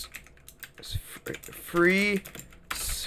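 Computer keyboard typing on a Windows 8.1 Embedded Industry Pro machine, with short bursts of clicking keys mixed with a voice speaking and a brief hum in the middle.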